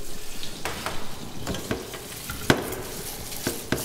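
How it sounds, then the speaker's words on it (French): Risotto rice toasts with softened onions in hot oil over high heat. There is a steady close sizzle throughout, with several sharp scraping and tapping strokes of a spoon against the pan. "là, je fais nacrer mon riz"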